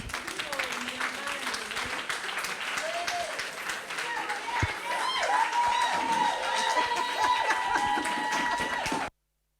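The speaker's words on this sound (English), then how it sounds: "Let's give Yvette a big round of applause as she comes up" Audience applause for a speaker coming up at a textiles talk, a continuous, fairly distant clapping that swells slightly in the second half, with voices murmuring underneath before it cuts off abruptly.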